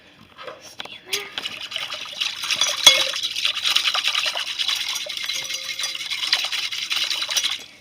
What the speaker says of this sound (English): I'm gonna whisk it so all the little stuff particles